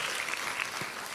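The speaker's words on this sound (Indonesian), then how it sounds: "Beri tepuk tangan yang meriah buat Tuhan." A church congregation claps steadily in continuous, dense applause throughout, filling the space evenly from start to finish.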